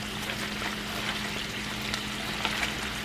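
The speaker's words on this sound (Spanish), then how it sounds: "ya se está friendo. Se tiene que freír la cebolla para que sepa rico." Onion frying in a pan for a stew: a steady, close sizzle with crackling pops and a constant hiss throughout, heard alone with no talk.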